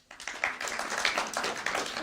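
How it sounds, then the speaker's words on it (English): Scattered, sparse applause from a small audience, a few people clapping unevenly at moderate distance for about two seconds. "Let's hear it by applause if your parents ever said that to you."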